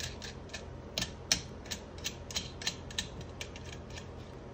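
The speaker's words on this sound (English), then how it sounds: "we got that all bolted together and tightened up" A ratchet tightening bolts on a cold air intake for an SN95 Mustang, a series of close, crisp clicking ratchet strokes in an uneven rhythm.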